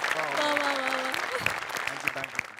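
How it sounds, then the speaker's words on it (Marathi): Audience applause for comedy performers on a Marathi stage show bursts out and holds steady for a couple of seconds, with a few sharp claps standing out near the end over a faint crowd murmur. "त्यामुळे त्यांच्यासाठी स्पेशल टाळ्या माझ्याकडून."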